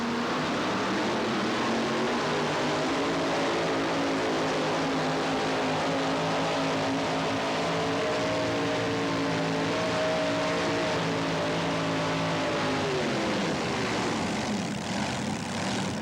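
A pulling tractor roars through a run at a tractor pull, a loud, continuous engine drone with steady tones that shift in pitch, then drop away near the end.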